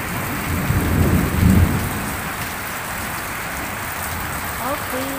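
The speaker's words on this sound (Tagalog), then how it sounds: "Ang ulan mahina pero may kulog at kidlat." Thunder rumbles strongly in the first two seconds over steady light rainfall during a dark thunderstorm with lightning, the rain continuing as a constant hiss afterward, with a brief tonal sound near the end.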